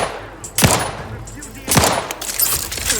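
Gunfire in The Outer Worlds 2, two loud, abrupt shots about a second apart with short decaying tails, then faint game sounds.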